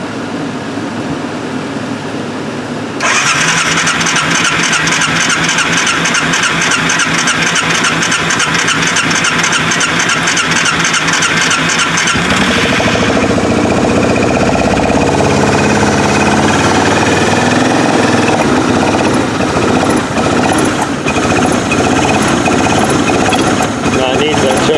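A 2003 Arctic Cat 400i ATV cold-starts after a few seconds of cranking, then runs with a loud, rough, rapid mechanical chatter that settles into a steadier idle, close by, with voices over it.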